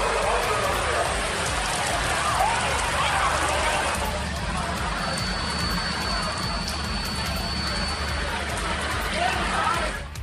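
Heavy rain pours down in a dense, steady hiss that stays loud and unbroken throughout, with no voices heard over it.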